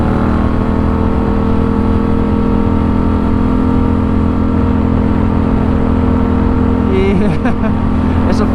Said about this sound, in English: So first gear, second gear, third gear, fourth gear, in the lower RPMs, this thing is a beast.